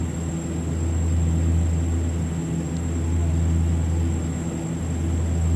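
Steady, loud drone of a Saab 340A twin turboprop cruising on descent in the X-Plane 11 flight simulator, a constant low engine hum with a thin high whine on top, continuous and unchanging throughout.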